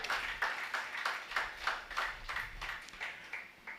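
A church congregation claps along in a steady rhythm, roughly two claps per second, filling the room with a bright, even pulse that carries on without speech.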